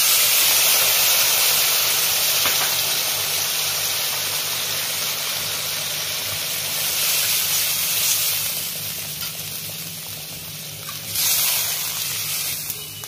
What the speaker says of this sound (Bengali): এবার সর্ষে বাটা জলটা দেবো